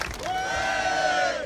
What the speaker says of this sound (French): Vous pouvez applaudir Alexandre